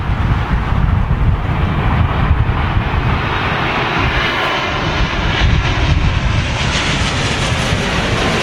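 A jet airliner arriving at London Heathrow in strong storm winds, its engines roaring loud and steady throughout with a broad rushing drone and wind buffeting the microphone.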